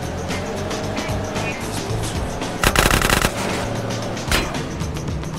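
Automatic gunfire in GTA San Andreas, heard as a dense rattling burst about midway and a shorter single crack later, set over constant vehicle engine noise and clatter, loud and close.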